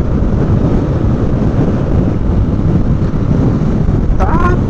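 Strong wind buffets the microphone of a motorcycle rider in São Paulo in a constant loud roar, with a brief high whistle-like sound near the end.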